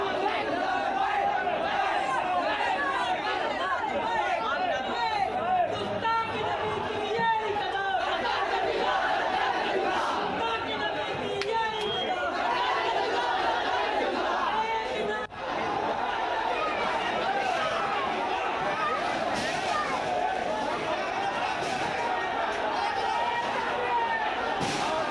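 A protest crowd in Prayagraj shouts slogans after Friday prayers, a dense, continuous roar of many voices with overlapping yelling and chatter that stays loud throughout.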